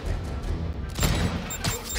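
Rockets exploding in the Spider-Man video game on PS5: dense booming blasts and crackling bursts, loud and close, with a sharp explosive hit about midway and another near the end, no voices.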